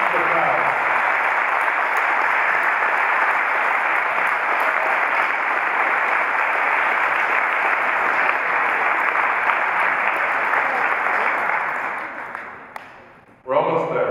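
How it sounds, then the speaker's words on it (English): Sustained audience applause greets a woman stepping up on Kyle Fossman's behalf at his retirement event, a dense, steady roar of many hands that holds for about twelve seconds before fading and breaking off abruptly near the end. "Let's give her a round of applause for Kyle."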